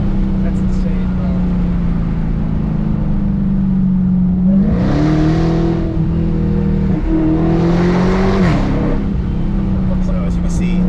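A Dodge Charger Daytona Hellcat accelerating hard from inside the cabin, its loud engine droning and rising in pitch through two strong pulls, with brief dips where the downshifts land.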